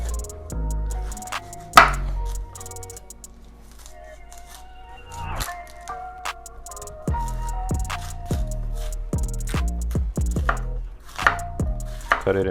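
A knife chops through cauliflower on a cutting board, cutting it into thick strips. Several sharp, irregular cuts sound close up over soft background music.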